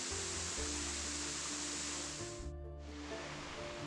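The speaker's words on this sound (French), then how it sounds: "C'est vraiment très écrasant quand on est positionné juste au-dessous de la cascade." Winter waterfall in Burgundy, heard from directly beneath the cascade as a loud, dense, continuous roar of falling water with a low rumble, recorded close up on a waterproof action camera.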